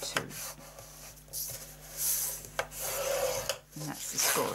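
Paper is scored on a scoring board for a large handmade gift box, giving close, dry scraping and rubbing strokes that repeat unevenly in a quiet room.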